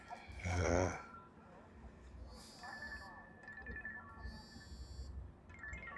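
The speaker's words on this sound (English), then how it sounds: "Phone's ringing." A phone rings indoors in two short electronic bursts of bright tones, fairly faint beneath a close-up breathy voice and low background rumble.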